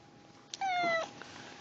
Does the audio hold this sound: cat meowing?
yes